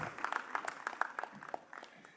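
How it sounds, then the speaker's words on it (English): Scattered hand claps from a small crowd at an inauguration ceremony, fairly quiet and uneven, forming light applause that continues steadily throughout. "Let's give him a warm round of applause"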